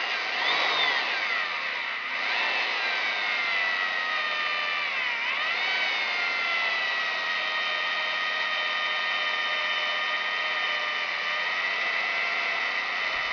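A handheld drill bores a hole with an oiled bit, keeping up a steady high whine with a couple of brief dips in pitch as it bites the workpiece, close and continuous.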